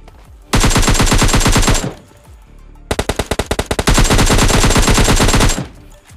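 Automatic gunfire in the PUBG Mobile Lite battle royale game, two loud, close rapid-fire bursts, the second starting with a few quick separate shots before a sustained stream, with a short gap between them.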